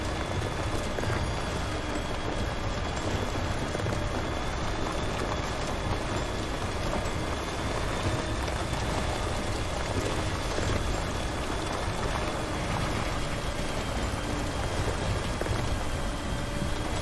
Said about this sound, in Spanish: Está lloviendo, tío.